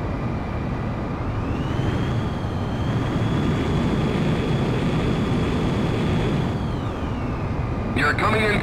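An F-2A jet fighter engine drones loud and steady in the video game Ace Combat X during aerial refueling, its whine rising slightly in pitch and holding before easing off near the end.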